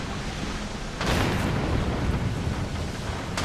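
Naval cannon fire at sea in the video game Assassin's Creed Rogue, a heavy booming blast that swells into a sustained rumbling roar with crashing noise, loud and close.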